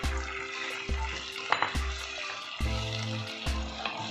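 Fried eggs stirred into a sizzling sauce in a pan, a crackling fry with repeated scraping strokes and low thumps at an uneven rhythm, close and moderately loud.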